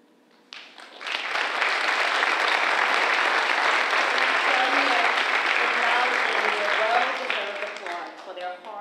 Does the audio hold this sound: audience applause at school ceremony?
yes